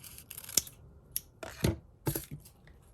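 Scissors snip through crepe paper for a dahlia flower, a few sharp separate cuts close by in a quiet room.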